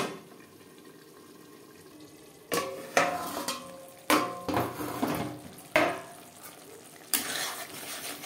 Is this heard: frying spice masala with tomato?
yes